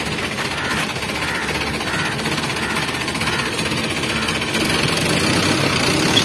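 An Isuzu NKR truck engine runs steadily after a fan belt replacement, giving a loud, continuous rattling diesel clatter close by with no pauses.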